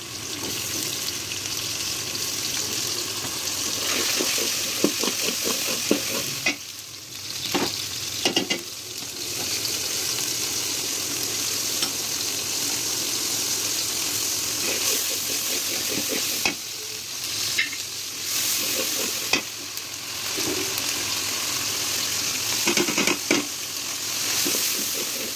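Ginger paste, chopped onion and chicken curry spices frying in mustard oil in a village kitchen pan, a loud continuous sizzle with repeated scraping stirs and brief pauses, no voices.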